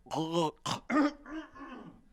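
A man clears his throat in a few thick, phlegmy rasping bursts, close and fairly quiet, with short gaps between efforts.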